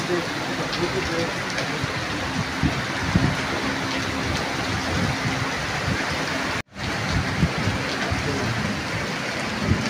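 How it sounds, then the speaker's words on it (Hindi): Steady, stormy rain in Lahore hisses across the whole stretch, a dense wash of noise with a brief dropout partway through, and faint voices murmur beneath it. "ये बारिश हो रही है।"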